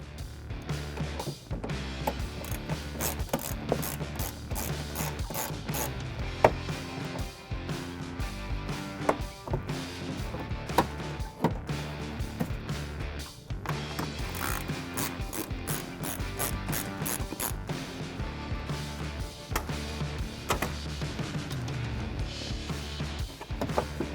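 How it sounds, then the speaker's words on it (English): A hand ratchet clicks in rapid, continuous bursts while undoing two screws beneath the front bumper of a 2016-2020 Toyota Tacoma, close and steady for the whole stretch, with brief pauses between runs. "There's 2 screws underneath the bumper here that you got to undo."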